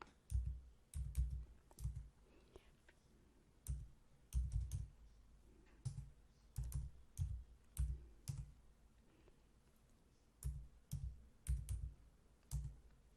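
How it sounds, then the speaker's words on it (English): Bursts of keyboard typing in short clustered runs of clicks, separated by brief pauses, close and clear with no talking. "Watch what happens when I type in the 4500 and press enter on my keyboard."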